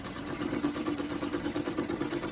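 Electric sewing machine running empty with no fabric, a steady close mechanical whir with a rapid even needle rhythm held throughout, during a Punjabi tutorial on sewing pleats for a well-fitted kameez.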